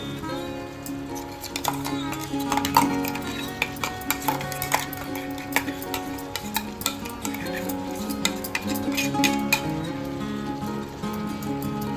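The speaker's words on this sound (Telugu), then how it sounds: "ఇప్పుడు నేను ఈ మసాలా అంతా ఈ చేపలన్నిటికీ పట్టేలా యాడ్ చేస్తున్నాను." Masala being mixed onto fish pieces in a pan for Guntur-style tangy tamarind fish curry, producing steady scraping and clinking of a utensil against the pan with a faint sizzle underneath, close and continuous.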